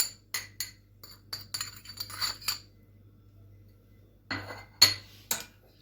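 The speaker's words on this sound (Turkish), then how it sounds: "Şimdi bunu kabıma boşaltıyorum." Dry spices such as sweet paprika and salt are emptied into a bowl, giving a series of light clinks and scraping taps from a spoon against the dish, in two clusters separated by a quiet pause.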